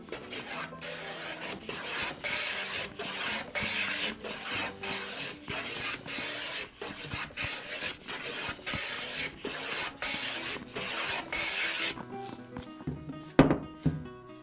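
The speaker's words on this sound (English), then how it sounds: "So I'm going to start by planing in the vise." Cedrela odorata (Spanish cedar) held in a vise is hand planed for a guitar neck in a string of rhythmic rasping strokes, each a short burst of shaving noise with pauses between, followed by a sharper knock near the end.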